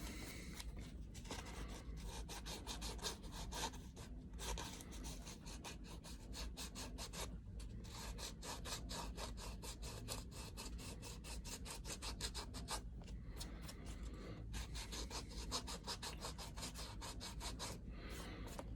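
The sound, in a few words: sanding a leather rifle sling edge with sandpaper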